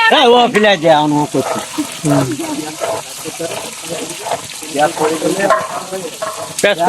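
Goat meat frying in oil with spices sizzles and gets stirred, a steady crackling wash under prominent voices talking over it, with occasional clatter and splashy bursts.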